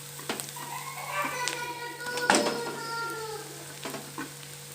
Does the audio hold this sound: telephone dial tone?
no